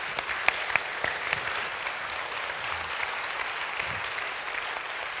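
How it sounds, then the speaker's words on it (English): Dense, steady applause from a conference audience at an opening session, many hands clapping together at a constant level for the whole stretch, with no talk over it. "And a warm round of applause to you"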